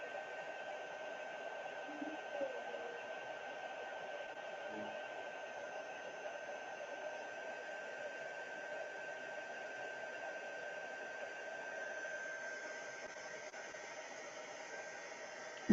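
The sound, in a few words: hair dryer drying a watercolor painting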